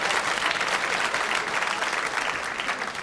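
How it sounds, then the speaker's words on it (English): A comedy-show audience claps in steady, dense applause that fills the whole stretch at an even level. "Thank you for your applause."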